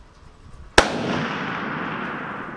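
A century-old Mauser rifle fires one loud, sharp shot outdoors in snow, followed by a long rolling echo that fades slowly over the next couple of seconds.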